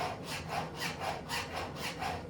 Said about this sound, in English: the gullet's got a little stub sticking up there, and I just take a round file